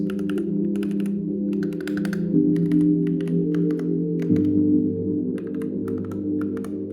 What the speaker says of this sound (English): I love the sound of the keyboard, and the typing experience